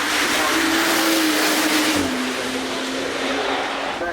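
An Aston Martin Valiant with a 4-litre twin-turbo V8 passes on the Goodwood Festival of Speed hillclimb, a loud engine roar with a rising then falling tone over crowd and ambient noise.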